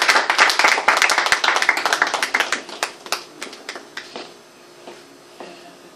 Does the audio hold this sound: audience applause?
yes